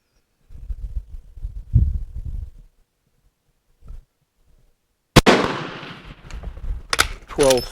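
An Italian Vetterli 1870/87 rifle fires at a target, one sharp loud report followed by a ringing decay, after low handling thumps and shuffling.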